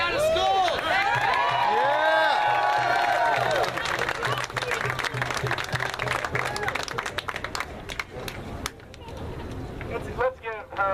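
A crowd at a March Against Monsanto rally in Dallas applauds and cheers loudly, sustained clapping mixed with whoops and shouting that gradually thins into scattered claps and crowd chatter.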